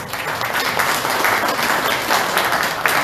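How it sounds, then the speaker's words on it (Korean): Audience applause at a residents' community briefing session, a steady dense wash of many hands clapping for several seconds, loud and close, with no talking over it. "격려의 박수 부탁드립니다."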